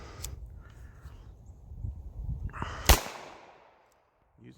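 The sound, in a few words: gunshots from a Taurus Spectrum pistol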